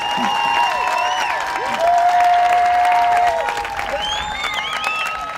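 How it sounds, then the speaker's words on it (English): A crowd gives a sustained round of applause with cheering at a Hall of Fame induction ceremony for a 2016 women's football class, loud and steady throughout. "Please join us one last round of applause for Rachelle, Pecovsky, Ivy Tillman, Claudia"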